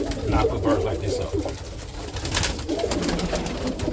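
Roller pigeons coo in soft, throaty bursts close by in their loft, with someone talking over and between the calls.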